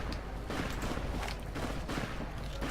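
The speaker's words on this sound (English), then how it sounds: "I hear gunfire." Gunfire in the video game Fallout: New Vegas, a dense crackle of repeated shots and booms that runs steadily through the whole stretch at moderate loudness with no talking over it.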